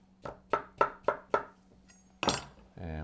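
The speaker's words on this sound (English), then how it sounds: "we're just going to do a rough chop on these" A knife chops salad ingredients for a smashed chickpea salad on a board in five evenly spaced, crisp thuds, followed by a louder clatter and a brief voice.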